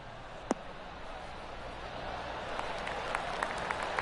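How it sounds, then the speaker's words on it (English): Scattered polite golf clap from a gallery of spectators on a golf course, a few sparse claps over steady outdoor crowd murmur, mostly faint with one sharper clap near the start. "That deserves a golf clap."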